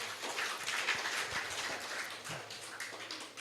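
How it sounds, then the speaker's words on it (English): An audience at an international academic colloquium applauds a presenter, a soft, distant patter of many hands continuing steadily for a few seconds. "a round of applause for Professor Elchin"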